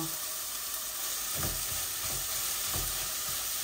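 Lamb meat fries with onions in a pan, giving a loud, steady sizzle close by, broken every second or so by the soft scrape of stirring.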